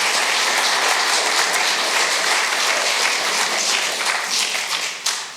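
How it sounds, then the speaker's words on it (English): Lecture-hall audience gives a loud, dense round of applause for a visiting lecturer, a continuous roar of clapping that holds steady and then tapers near the end. "let's give him a round of applause for that."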